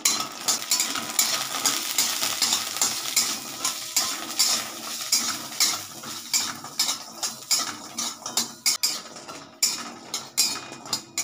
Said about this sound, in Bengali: বড়িগুলো আমি একটু ভেজে নেব হালকা তেল